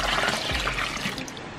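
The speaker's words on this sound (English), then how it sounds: "you just want to add water from the pond into here" Pond water is poured slowly from a bucket into a container, making a steady soft splashing trickle that is faint and continuous with no talk.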